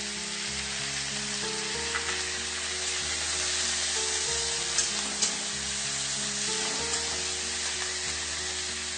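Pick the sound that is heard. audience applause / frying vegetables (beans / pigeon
frying vegetables (beans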